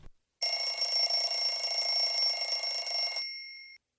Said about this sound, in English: The alarm clock rings.